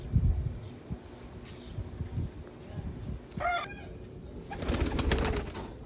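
Free-flight pigeons coo in a short throaty burst, with rustling wing flaps and scattered bird calls around it and a busier flurry of movement near the end, close and moderately loud.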